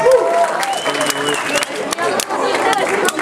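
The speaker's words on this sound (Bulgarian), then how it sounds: "Вашите аплодисменти за Гибона!" A crowd claps and cheers at an outdoor street breakdance show at a Fanta dance stage, loud and continuous, with a voice calling over it.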